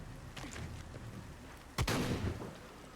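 A single loud shotgun blast booms at close range against rubble in a Tomb Raider game, followed by a lingering low rumble over quieter ambient noise.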